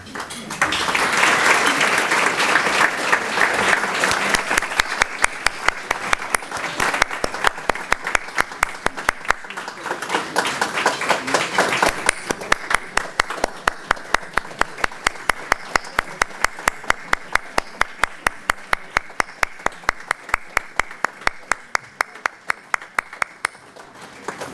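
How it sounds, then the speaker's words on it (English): Sustained audience applause at a charity breakfast in Westchester County honoring sponsors and benefactors, loud and dense at first, then thinning into steady, distinct claps that continue to the end. "join me in a heartfelt and hearty round of applause for all of today's sponsors and benefactors"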